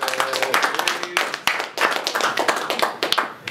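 Audience applause at a comic convention panel, fairly close and uneven, with individual claps distinct and a few sharper slaps standing out from the patter before it eases off.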